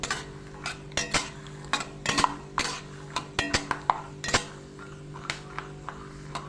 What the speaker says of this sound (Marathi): शेंगदाणे असे गुलाबी होईपर्यंत चांगले भाजून घ्यायचे आहेत.